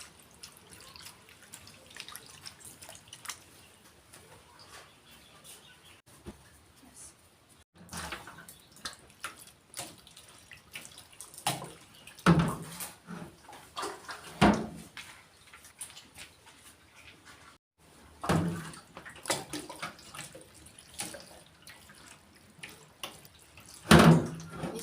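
Papaya is washed by hand in a sink using water poured from a gallon jug because the tap has run dry. Quiet splashing and pouring come in repeated bursts, with drips and sloshing between them.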